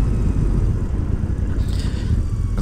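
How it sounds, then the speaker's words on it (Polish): Royal Enfield Super Meteor 650 motorcycle with an accessory exhaust, its engine giving a steady, close, loud low rumble throughout with no voices. "Kolejnym plusem to jest piękny dźwięk silnika."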